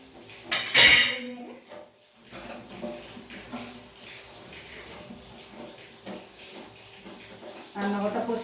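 Pots, dishes and cutlery clatter and clink while a home kitchen is tidied, with a loud burst of clanking early on, then softer rattling and scraping under intermittent talk, and more clatter at the end.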